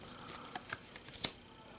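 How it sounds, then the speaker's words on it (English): Playing cards drawn from a deck during a Pathfinder card game, a few soft papery slides and snaps in a quiet room, one sharper flick near the end. "We're going to draw some cards here."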